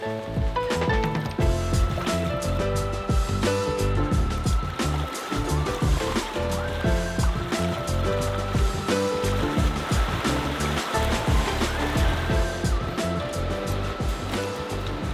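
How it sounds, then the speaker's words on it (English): Fast water rushes through a trout stream in a constant loud, churning roar that fills the whole stretch without pause. "We got a lot faster water rolling through here"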